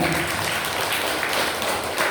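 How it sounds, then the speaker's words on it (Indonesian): A workshop audience of teachers claps steadily for about two seconds, a dense, even patter of hands with no voices standing out. "Terima kasih Pak Selamat, beri tepuk tangan buat beliau."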